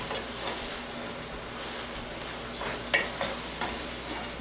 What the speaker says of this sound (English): adding the pasta. Give it a good stir.